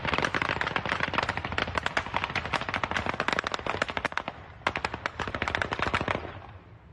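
Machine gun fire in combat footage, long rapid bursts of sharp cracks, loud and continuous, broken by a brief pause before another sustained burst.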